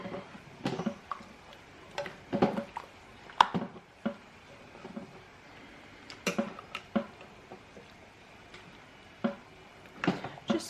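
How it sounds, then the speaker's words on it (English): A spoon stirs a simmering stew of onions, garlic and spices in a pot, giving soft, irregular clinks and scrapes against the pot with quiet gaps in between. "all I'm going to do is just sort of stir it through a"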